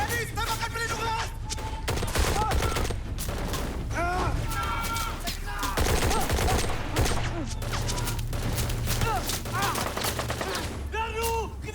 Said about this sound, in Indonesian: tembakan pelindungan!